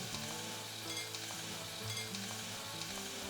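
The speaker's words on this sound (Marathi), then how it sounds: "आता आपण हे परतून घेऊयात." An onion-coconut masala with ginger-garlic paste sizzles steadily in hot oil as it is sautéed, giving a constant close frying hiss with occasional stirring scrapes and no talking.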